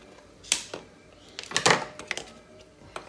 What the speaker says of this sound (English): Come in with scissors, cut the end.